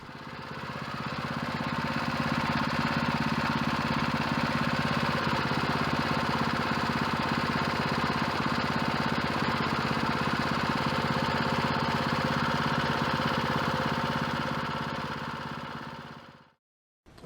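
A Predator 212 small gasoline engine runs steadily on new vibration mounts, a loud continuous mechanical drone with fast rhythmic pulsing that holds evenly before cutting off abruptly near the end.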